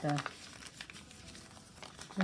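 A crinkled, tea-dyed paper envelope is handled and crumpled, giving close, crackly rustling throughout, with brief bits of a voice at the start and end.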